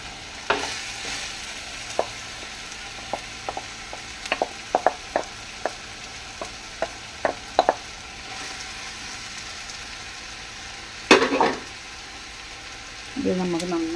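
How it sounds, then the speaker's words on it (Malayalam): Onions being stirred in a frying pan with a sizzling fry bed and a run of sharp spoon or spatula taps against the pan, plus a louder scrape near the end. "ഇത് നമുക്ക് നന്നായിട്ട് ഒന്ന് ഇളക്കി മിക്സ് ചെയ്തെടുക്കാം"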